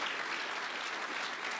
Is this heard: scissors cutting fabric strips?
no